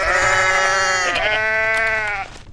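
Goats bleat in the video game Goat Simulator, a loud, sustained harmonic wavering cry that dips in pitch midway and carries on for over two seconds before cutting off abruptly, with no talking over it.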